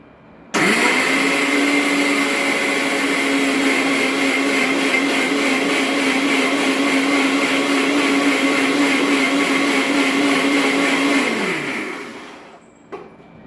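A blender crushes jamun (java plum) with three or four spoons of water, starting abruptly into a loud, steady whirring grind that holds for about eleven seconds before winding down to a stop.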